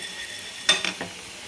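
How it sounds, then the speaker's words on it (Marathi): Whole dry spices roast in a pan, giving a quiet background hiss and a quick cluster of three or four soft scraping, rattling stirs in the middle. "हे ड्राय मसाले आपण खडे मसाले भाजून घेणार आहेत"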